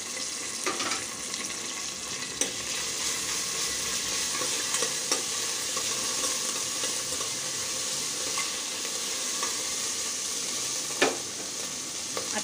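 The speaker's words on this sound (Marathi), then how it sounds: "अद्रक लसणाची पेस्टसुद्धा छान परतून घ्यायची आहे थोडी लालसर होईपर्यंत" Ginger garlic paste sautéing in hot oil for a Maharashtrian veg thali, a continuous bright sizzle with occasional sharp utensil taps, close and fairly loud throughout.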